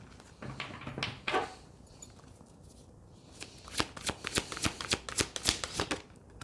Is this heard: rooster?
no